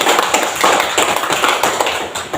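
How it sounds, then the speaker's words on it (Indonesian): A class of elementary school pupils applauds a classmate, loud, close, continuous clapping from many small hands that lasts without pause and with no voices over it. "tepuk tangan dulu untuk Suri"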